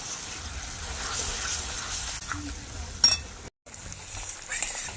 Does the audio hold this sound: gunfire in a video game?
no